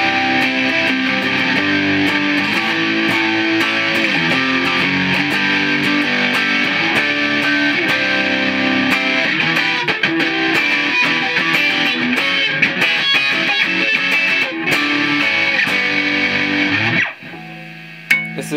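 Gordon Smith G-60 electric guitar on its bridge pickup, driven through a Boss DS-1 pedal with distortion maxed, plays loud, dense fuzzy riffs for about seventeen seconds before cutting off abruptly.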